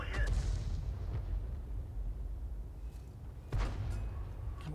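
A 105 mm leFH18B2 self-propelled artillery gun in a tank video game booms several times: a heavy blast at the start, fainter thuds, then another strong report, all over a constant low rumbling battle background.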